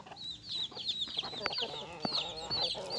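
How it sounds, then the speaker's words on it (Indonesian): Chickens and a rooster cluck busily at a morning feeding alongside Muscovy ducks, with short, overlapping calls close by. "nah udah pada datang ya ini ayam jagonya ya makanya ini entok agak takut sama ayam"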